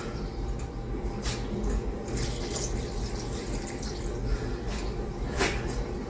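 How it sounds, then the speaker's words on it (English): Water poured into a pot on a stovetop burner while making homemade mac and cheese, a steady continuous splashing stream running close and fairly loud for several seconds. "Let's add a little bit more water."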